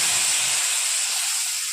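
Ground spices hit hot oil already tempered with black cumin for a spicy mola fish curry, giving a loud, steady, close sizzling hiss throughout.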